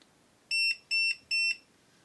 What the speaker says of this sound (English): when pairing is successful, the device will beep 3 times